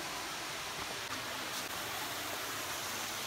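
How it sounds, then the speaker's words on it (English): A small waterfall at Glen Helen, running low, gives a soft, steady hiss of falling water. Faint and continuous with no distinct splashes, heard alone with no talking. "This is the waterfall. It's a little underwhelming right now."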